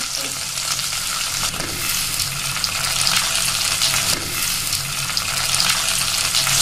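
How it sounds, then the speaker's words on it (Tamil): Tomatoes sizzle in hot oil in a pan with onion, green chilli and garlic for a Tamil fish curry, a steady close hissing fry with occasional stirring scrapes, continuous and alone. "நம்முடைய தக்காளி நல்லா வதங்கட்டும்."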